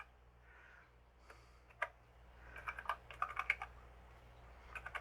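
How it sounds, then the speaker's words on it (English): Keys clack on a Tandy TRS-80 Model I keyboard, starting with a lone press and then a quick irregular run of bouncy taps, close and fairly quiet over a low steady hum. "The keyboard is much bouncier in this mode for some reason."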